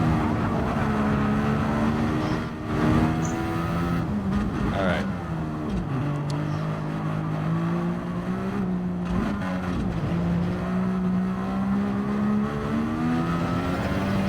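Race car engines in a racing video game session at Interlagos, a continuous whine that rises and falls through gear changes and throttle lifts, loud and steady for the whole stretch.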